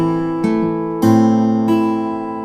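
Fingerstyle guitar playing a polyrhythmic Travis picking pattern: three clear plucked strikes with ringing, sustained chords between them, played solo and up close with no talking.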